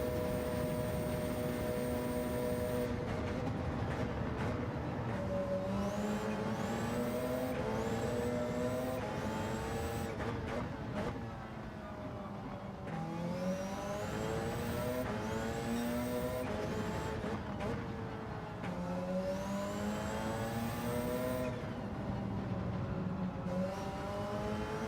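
Audi race car in the WRC GT racing game on the Trial Mountain circuit, its engine droning steadily throughout with repeated rising and falling pitch sweeps as it revs through the gears, loud and continuous with no talk.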